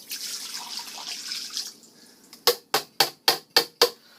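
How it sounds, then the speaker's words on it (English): Water is poured into a sink as a brief, hissing splash that fades out, followed by a series of six crisp, evenly spaced drips or taps close by. "we're gonna put this water in the sink right here"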